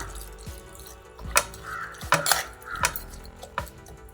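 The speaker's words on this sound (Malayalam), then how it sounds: "ഇളക്കി കുറച്ച് വെള്ളം ഒഴിക്കുക" Water splashes into a metal pot of cucumber and prawn curry amid sharp clinks and knocks of cookware, with bursts of running water between the clangs.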